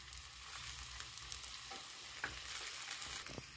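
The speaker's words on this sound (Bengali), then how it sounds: "এবার আমি একটু সামান্য অল্প তেল দিয়ে হালকা করে ভেজে নেব" Patisapta, a Bengali rolled crepe, lightly frying in a little oil in a pan, a soft continuous sizzle with occasional faint scraping taps from a utensil, fairly quiet and without speech.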